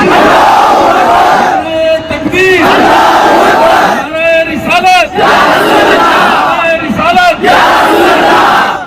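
A large crowd at a Muslim street protest in Aurangabad roars the Takbir slogan in repeated call-and-response waves, a leader's amplified shout answered each time by a massive chorus of voices, three big bursts in a row.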